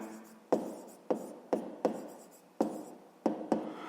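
Handwriting on paper, about seven short scratchy pen strokes, each opening with a light tap and fading quickly, spaced irregularly, close and quiet with no talking.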